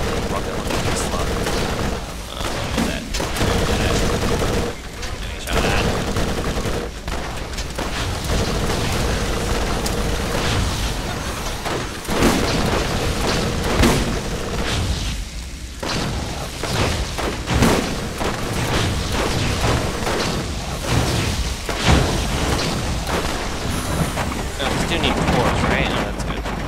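Rocket launcher blasts and gunfire from the video game Borderlands, a dense stream of booms, shots and mechanical clatter running nonstop, with players talking over the chaotic battle.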